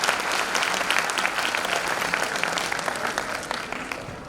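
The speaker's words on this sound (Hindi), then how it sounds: "तो एक बार हिमांशु जी के लिए तालियां हो जाए" A crowd applauds steadily and loudly, dense clapping sustained throughout with no voices over it.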